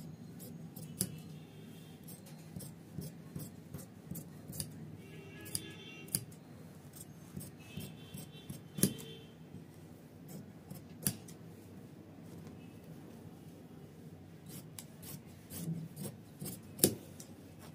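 Scissors snip through a paper pattern for a katori blouse, giving close, repeated crisp cuts and rustling paper in uneven bursts, with no talk over them.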